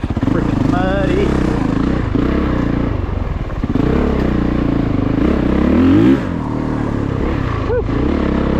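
Honda CRF450RX dirt bike ridden hard on muddy enduro single track, a loud, close engine constantly revving and droning with wind buffeting and a rider's voice heard over it.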